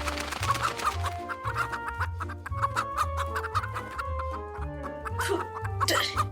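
Hens cluck and chatter around a home farm, the short clucks scattered over a steady, tuneful musical backing that plays throughout.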